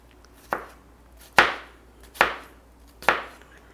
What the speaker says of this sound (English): Next, it's time to chop the onion.